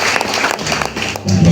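An audience claps at a church pastor's installation ceremony, dense applause mixed with a voice, briefly dipping before swelling again at the end.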